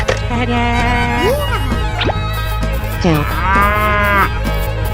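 Cow mooing loudly and close, several drawn-out calls rising and falling in pitch, set within a game-style escape room challenge with continuous background sound running beneath.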